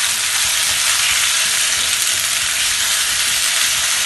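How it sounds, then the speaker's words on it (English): Potatoes toasting in hot oil with cumin seeds give a loud, steady, close sizzle, a dense unbroken hiss that holds evenly from start to finish. "I'm going to toast these potatoes for next 2 to 3 minutes in this"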